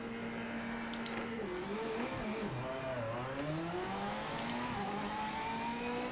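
GT3 race cars in the Project Motor Racing GT3 Club Cup, engines revving and shifting as a pack pulls away at the back of a race start, a steady wash of layered engine tones rising and falling throughout.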